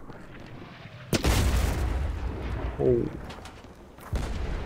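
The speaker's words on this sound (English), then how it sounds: "I need people to fire the right cannons." Ship cannons firing in the pirate video game Blazing Sails, with two heavy booms spaced a few seconds apart, loud and close, plus a brief voiced exclamation between them.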